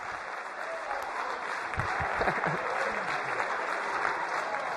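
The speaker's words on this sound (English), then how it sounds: "big round of applause to you all." An audience at a live workshop-style session applauds, a dense steady clapping sustained throughout at moderate loudness with faint cheers mixed in.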